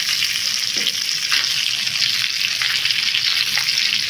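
Fish frying in oil in a pan gives a steady, loud crackling sizzle that holds evenly throughout, with a few faint clinks and splashes underneath.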